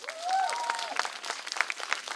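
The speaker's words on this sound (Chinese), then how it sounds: "来宾请掌声" A small audience claps after a song, scattered and moderately loud under a voice speaking at the start, the claps spaced and uneven as the applause thins out.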